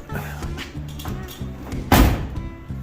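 A Ford Thunderbird door swings shut with one solid thud near the end, preceded by faint handling clicks and a low idle-like hum.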